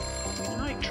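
A telephone rings in the Christmas Shopper Sim video game, a short electronic ringing tone heard under a person talking.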